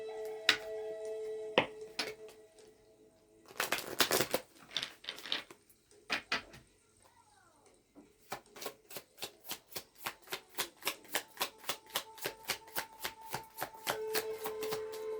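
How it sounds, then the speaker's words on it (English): Crisp, rapid riffles of a past-life oracle card deck being shuffled, with a dense burst in the middle and a steady run of sharp flicks toward the end, close up. "And here, shuffle."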